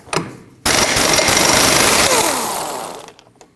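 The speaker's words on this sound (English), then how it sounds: "After removing your wheel, you need to remove your axle nut." An impact wrench hammers loose the 32mm axle nut on a 2003-2008 Subaru Forester, one loud sustained burst of rapid rattling that fades out, preceded by a brief clank.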